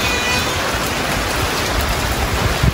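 Steady rain hisses down in a dense, even patter in Quezon, with no voices.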